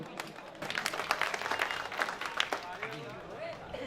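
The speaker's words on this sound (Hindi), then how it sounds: "आप लोग तालियों से इस्तकबाल कीजिए दोस्तों" An audience at a mushaira welcomes a poet with applause. Scattered claps sound under a noisy hall with voices mixed in, fairly faint and steady for a few seconds.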